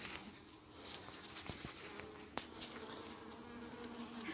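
Honeybees buzz steadily at an opened hive during beekeeping in a summer apiary, a dense, continuous hum close by, with a few light knocks and taps.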